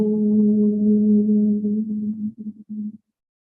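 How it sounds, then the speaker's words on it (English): A sustained, resonant Om chanted by a group during a Sunday sermon, a steady low hum that wavers and breaks up briefly before stopping. "And that Om chant, right? Om."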